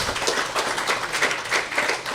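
A stand-up comedy crowd gives a sustained round of applause, with dense, even clapping filling the room and no one talking over it.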